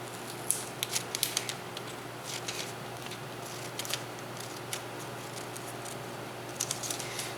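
Scissors snip through the liner flaps of a wooden soap mold in short, crisp cuts, some in quick clusters and some spaced apart, close and fairly quiet over a low room hum.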